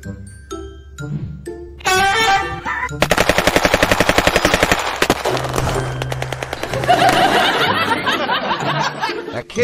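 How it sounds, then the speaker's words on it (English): Rapid, loud popping of popcorn, bursts crackling in quick succession like gunfire, preceded by a few soft tones and continuing as a dense rattling barrage. "the sound of popcorn popping sounded like gunshots"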